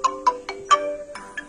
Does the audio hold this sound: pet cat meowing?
no